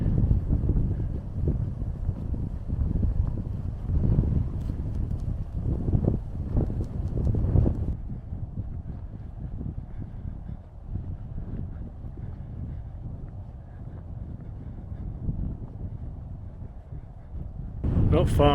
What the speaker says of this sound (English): Very windy indeed.